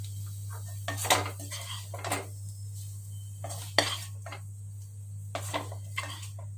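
Cauliflower chilli fry is scooped from a pan into another vessel with a metal spoon, giving a few sharp scraping clinks and taps against the cookware over a steady low hum, close and unaccompanied by talk.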